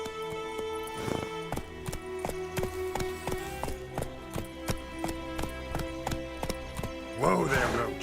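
Roach the horse gallops in The Witcher 3, a steady, rapid clip-clop of hooves running continuously and close up, with a short vocal burst near the end over the game's background sound.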